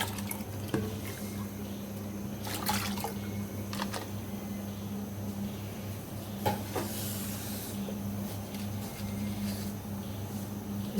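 Soaked dal mash lentils are tipped into a pot of water to boil, giving soft splashes, stirring and liquid squishes near at hand over a steady low hum, with a few brief metallic clinks.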